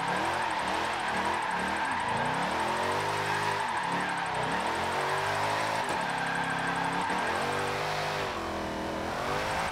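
A hypercar engine in a driving video game revs and shifts continuously, its pitch rising and falling in sweeping runs, loud and close with no talking.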